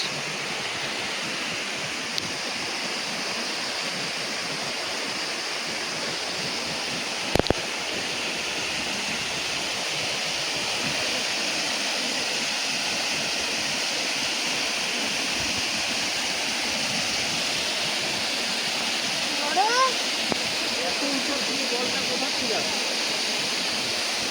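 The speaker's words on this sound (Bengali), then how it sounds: "ওটা ঘাট কচা ফলস ছিল, এটা দুর্গা ফলস।" Durga Falls in Purulia, a broad, even rush of falling water roaring steadily throughout, with a sharp click near the start and a faint brief voice late on.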